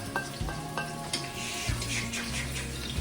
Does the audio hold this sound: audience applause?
no